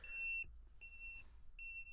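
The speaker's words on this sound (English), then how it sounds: "apart from being annoying, that's my my carbon dioxide detector." A household carbon dioxide detector beeping, three high electronic tones about three-quarters of a second apart, each held briefly over a quiet low room rumble with no talking.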